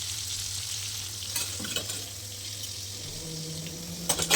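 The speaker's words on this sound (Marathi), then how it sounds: "वाटाणा जरा तेलात तळून घ्यायचा भाजून" Green peas fry in hot oil in a pan while being stirred, a quiet continuous sizzle with a low steady hum beneath and a few soft scraping and clinking touches near the end.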